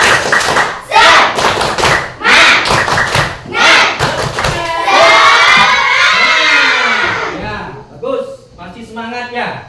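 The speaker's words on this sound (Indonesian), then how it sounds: "Tepuk semangat." Students in a Quran and hadith class do a rhythmic spirit clap, bursts of loud patterned clapping and thumps mixed with children chanting and shouting together, ending in a sung group cheer.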